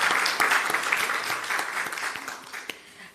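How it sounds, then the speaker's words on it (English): Conference audience at a national health research event applauding a poster presentation award, a broad, even wash of many hands clapping that thins slightly toward the end. "So let us give another round of applause."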